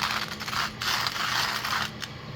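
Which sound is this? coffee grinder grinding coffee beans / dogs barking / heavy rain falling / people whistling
coffee grinder grinding coffee beans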